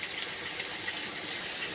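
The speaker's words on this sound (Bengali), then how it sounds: "অল্প একটু জলও দিয়ে দেবো।" Water pours into a pan of shukto, a Bengali vegetable curry, in a steady, close gush with no talking.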